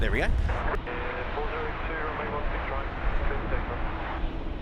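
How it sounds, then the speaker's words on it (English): A China Southern Airbus A350 comes in to land on the left runway at Sydney Airport, its broad engine roar steady and fairly loud throughout, with a person speaking briefly near the start. "China Southern, the A350 is coming in on runway left"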